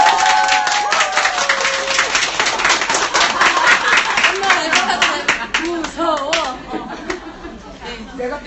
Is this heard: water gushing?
no